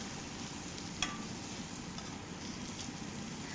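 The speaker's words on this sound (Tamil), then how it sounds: "சிம்மில் வச்சு ஒரு 1 நிமிஷம் இதை நல்லா எண்ணெயிலே நல்லா வதக்கி விட்டுருங்க." Spice powders sautéing in oil in a pan on low heat for a crab masala, a soft steady sizzle with a single brief stir or scrape near the start, close and without talk.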